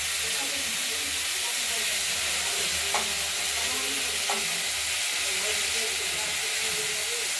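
Beans and potatoes stirred in a frying pan, a steady broad sizzle and hiss throughout with a couple of brief scraping clinks, no talking.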